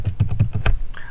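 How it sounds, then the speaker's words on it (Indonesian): Keyboard keys typed in a quick burst of about six close, fairly loud strokes on a computer keyboard while searching in a database program, with no talk. "Kita ketik akses di sini."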